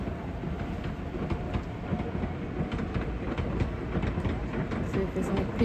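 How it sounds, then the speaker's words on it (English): Train running along an unfenced railway line near Cape Town's beaches, a steady rumble and clatter of wagons rolling past at moderate distance, continuous and unbroken. "There's the train."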